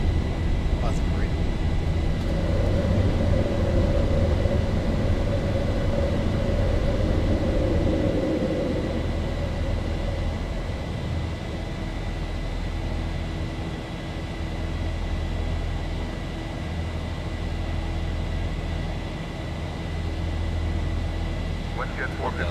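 Boeing 737-800 engines in a flight simulator game during the takeoff climb, a steady loud jet roar with a constant whine that eases slightly partway through.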